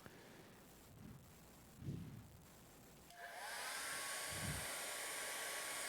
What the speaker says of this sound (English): we take this hair dryer and we plug it into the wall